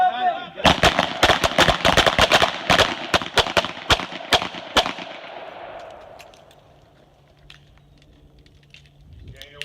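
Revolvers fired on a shooting range course: a rapid string of many sharp, loud cracks over several seconds, tapering off into quieter handling noise and a faint voice.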